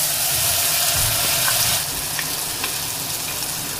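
Prepared spice masala sizzles and fries steadily in a hot pan for a Bengali vegetarian jackfruit curry, a continuous close crackle with a few small stirring clinks and no voices.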